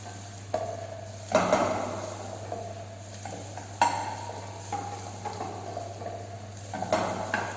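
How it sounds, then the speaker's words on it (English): Green hariyali gravy being sautéed in a pan, with intermittent stirring scrapes and utensil knocks against the metal over a soft background sizzle, in a quiet kitchen with no voices. "Saute it."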